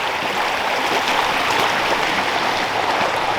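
A stream running high over small rapids near a homestead in the Arkansas mountains gives a steady, full rushing and burbling of water, close and continuous, with no voices.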